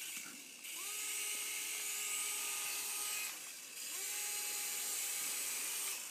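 A small toy helicopter's rear motor whines in two steady bursts over a hissing background, its pitch shifting slightly as it spins up and down.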